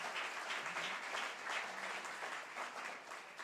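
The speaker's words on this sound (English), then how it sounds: "Give Elihu a round of applause." A lecture audience claps in sustained, even applause, moderately distant, with no voices over it.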